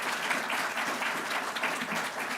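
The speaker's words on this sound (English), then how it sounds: "I think we should all give him a round of applause" Audience applause at a White House working group meeting, a steady dense patter of many hands clapping throughout, moderately loud and without talk.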